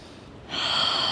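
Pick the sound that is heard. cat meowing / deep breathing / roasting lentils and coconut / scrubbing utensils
deep breathing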